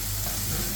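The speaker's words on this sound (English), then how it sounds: "Saute the onion" Chopped onion sautés in olive oil in a pan, a brief continuous loud sizzle heard up close.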